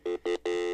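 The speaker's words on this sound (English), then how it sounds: "Let's call Bob's cell phone number again" A phone line rings as a call is placed to a cell number: three short harmonic ring bursts in steady succession, the last one held, clear and fairly quiet.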